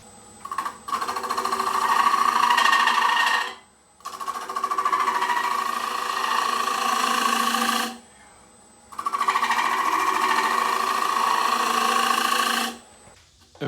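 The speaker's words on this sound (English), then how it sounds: "I'm going to do the shear scraping and get the exterior nice and fine-tuned" Shear scraping the outside of an ebony mulberry wood bowl spinning on a lathe, heard as a steady buzzing scrape in three long passes of several seconds each, separated by brief quiet gaps, close and fairly loud.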